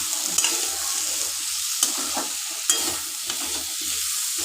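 Potatoes fry in a spice paste for a shrimp and potato curry, giving a quiet sizzle broken by a few crisp clicks and scrapes as a utensil stirs the pan. No speech is heard.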